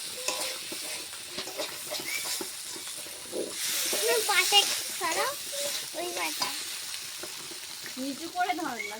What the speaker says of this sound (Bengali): এখন মশলা কষিয়ে এখন তেলটা ছাড়াইতে হবে।